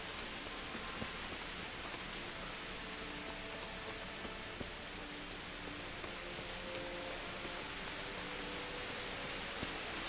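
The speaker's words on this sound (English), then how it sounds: "This is very atmospheric rain." Continuous heavy rain in the video game Kingdom Come: Deliverance hisses evenly throughout, a broad, steady wash of noise with no voices.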